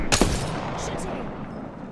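Gunfire from the video game Apex Legends: a sharp, loud burst of shots near the start, then a lingering noisy tail with faint distant shots.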